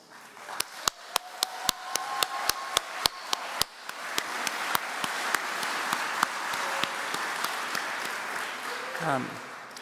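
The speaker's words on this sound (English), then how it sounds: "we could give you a round of applause" A graduation ceremony crowd begins with a string of single sharp claps spaced at a steady beat, then swells into continuous applause that fills the hall for several seconds before fading out under a voice.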